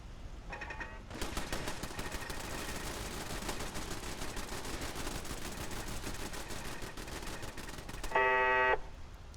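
Machine gun turrets in Fallout 4 open up in a long, loud, continuous stream of rapid automatic fire, followed by a brief buzzing tone near the end.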